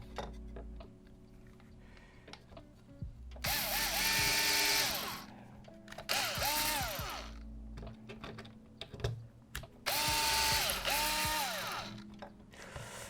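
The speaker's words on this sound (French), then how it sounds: "si ça vous casse les oreilles, les bruits de perceuse" A power drill pre-drills holes in wood for a wooden photo box, sounding in three loud whirring bursts that rise and fall in pitch, with quieter handling clicks in the gaps between them.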